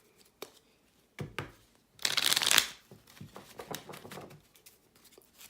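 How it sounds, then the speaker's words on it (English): Tarot cards are shuffled by hand in short bursts of riffling and patting, with one louder, denser riffle in the middle and softer card handling around it. "shuffle it really well"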